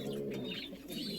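Pigeons coo softly and continuously in a close, fairly quiet burst, low throaty rolling calls with faint chirps above, no talking.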